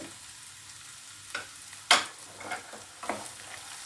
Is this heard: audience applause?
no